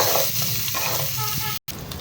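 Onion and garlic sauté in a pan while a spoon stirs them, a steady soft sizzle with scraping strokes, close and moderately loud, briefly cutting out near the end.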